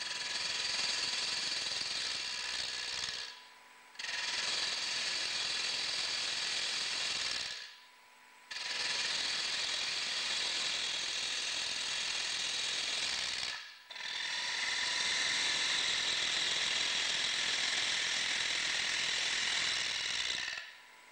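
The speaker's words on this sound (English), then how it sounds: "Then, turn the back or base of the bowl to the required shape." A wood lathe turns the base of a bowl, a bright steady scraping rasp of the tool cutting the spinning wood that runs in long stretches, broken by three brief pauses, close and even, with no talking.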